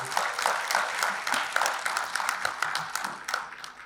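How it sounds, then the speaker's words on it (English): Applause fills the hall at a women directors' biennial conference, a moderately loud round of many hands clapping with some sharper individual claps, continuous for about four seconds. "Please give me a round of applause."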